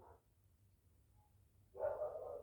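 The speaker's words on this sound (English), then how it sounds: "there's a puppy across the road and all the dogs in the street are going mental" Dogs barking in a residential street set off by a puppy across the road, two muffled barks from some distance, one brief and one longer, with a quiet lull between them.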